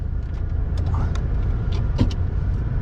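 A 2021 Renault Megane 4 Estate with the 1.5 Blue dCi 115 diesel heard from inside while driving: a steady low engine and road rumble with a few light clicks and rattles in the cabin, and no voices.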